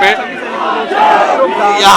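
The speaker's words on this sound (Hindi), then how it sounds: "गौतम जी को आप वहां देख सकते हैं कि जय भीम के नारे लगा रहे हैं और पूरी भीड़ जो है वो दोहरा रही है।" A large crowd at a political rally chants Jai Bhim slogans, a loud massed shout rising and falling in unison, up close and filling the whole moment.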